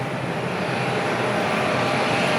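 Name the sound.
Virgin Atlantic Airbus A330neo landing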